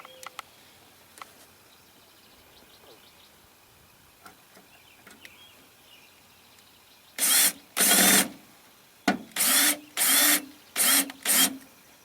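A drill bores holes while a 1997 Geo Tracker power window kit is fitted. A few faint clicks and taps come first, then about six loud, close drilling bursts in quick succession.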